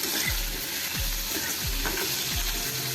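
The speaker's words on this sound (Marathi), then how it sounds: "बटाटे मी हे चांगले धुवून घेतलेले आहेत ते सर्व घालूया आणि आता हे आपण चांगलं मिक्स करून घ्यायचं आहे" Washed potatoes frying in a pan, a continuous bright sizzle with slow, regular stirring strokes roughly every half second, close and fairly loud, with no talking.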